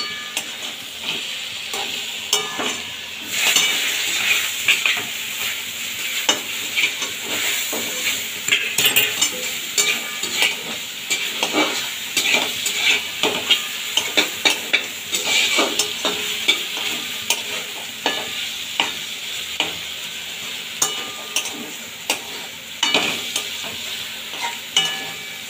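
A spoon stirs fried eggplant into mixed leafy greens in a hot pan, with steady sizzling beneath repeated scraping strokes and light clinks, close and continuous, with no talk.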